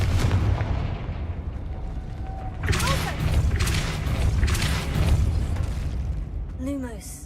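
Confringo spell explosions in the game Hogwarts Legacy, a series of heavy booms and crackling bursts over a loud, continuous rumble of combat, with voices heard amid the blasts.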